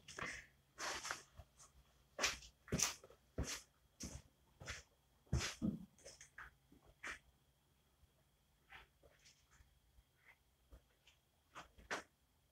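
A dog makes a run of short, sharp vocal bursts, some close together and others spaced apart, faint and distant with soft huffs and snorts between them.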